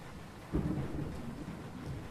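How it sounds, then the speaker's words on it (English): Thunder rumbles low and heavy over steady pouring rain in an RPG Maker horror game, a deep roll swelling briefly, then settling back under the constant wash of rainfall. "in the pouring rain? On a rainy day like this?"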